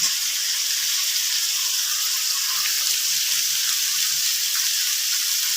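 Cauliflower and a few green chillies sizzle in a hot pan for a sabji curry, a loud, steady, hissing fry that continues evenly without pause and with no talk over it.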